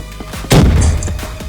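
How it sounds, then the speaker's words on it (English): A grenade blast bursts out mid-clip in a shooter game, a loud booming explosion that rolls on after scattered gunshots, with faint game effects trailing behind and no talk. "Oh, that was me with my grenade."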